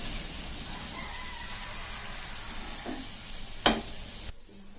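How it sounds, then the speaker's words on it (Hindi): Bread frying in a pan until brown on both sides for dahi toast, a soft steady sizzle with a sharp clink of a utensil near the end before the sound cuts away. "एबे ब्रेड को दुई साइड ब्राउन कलर होबा पर्यंत भाजबा"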